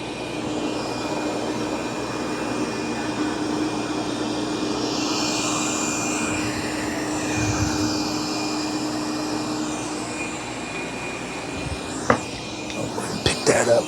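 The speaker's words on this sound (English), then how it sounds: "But I do think it's a good vacuum." A Dreame D20 Pro Plus robot vacuum cleans with a steady, droning whir that holds at an even level throughout, ending with a few knocks and bumps close by.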